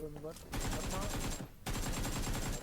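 Automatic gunfire in the mobile shooter PUBG Mobile comes as two long, dense bursts of rapid shots, loud and close, separated by a short pause, with a voice speaking briefly at the start.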